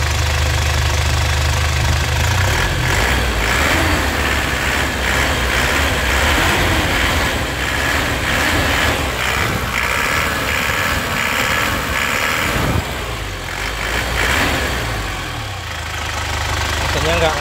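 The engine of a 2006 black Toyota Grand Touring is revved in repeated surges over a rough, knocking idle, loud and close, while someone talks over it throughout.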